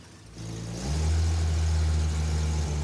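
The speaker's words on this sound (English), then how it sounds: "Rev it up." A car engine idles, then rises to a steady, higher rev and holds there during an ignition timing check, moderately loud and close.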